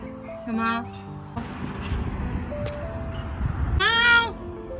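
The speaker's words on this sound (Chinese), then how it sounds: "小猫？" A stray kitten meows twice close by, once near the start and again near the end. The meows are clear and high, with a low background rumble between them.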